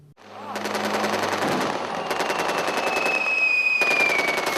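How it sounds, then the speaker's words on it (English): Machine gun fire during a final Army infantry training exercise firefight, loud rapid bursts of automatic shots repeating close by with brief pauses between strings. "A massive firefight is underway."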